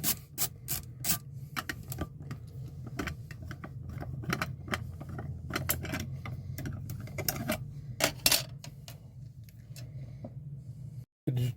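A wall receptacle cover plate is removed with the power off, giving a run of close, sharp clicks, scrapes and screwdriver rasps, with brief metallic taps in an otherwise quiet room.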